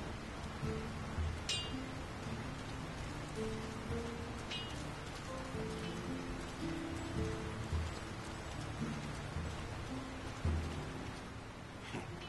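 Steady rain falls across a town in a fantasy video game, an even hiss of drops on surfaces with faint scattered patters and no voices, distant and continuous throughout.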